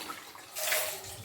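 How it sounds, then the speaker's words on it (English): Water from a cup tossed into a washing machine drum: a short splash and gurgle swelling midway through the brief moment, then draining away, fairly close and alone. "I'm putting some water in a cup, and I'm just going to throw it inside"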